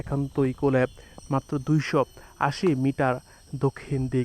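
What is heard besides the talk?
crickets chirping outdoors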